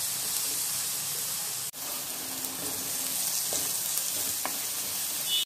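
Green chilies frying in hot oil with turmeric and salt for a cauliflower curry, a dense continuous sizzle and hiss with occasional stirring knocks, close and loud, with no talking.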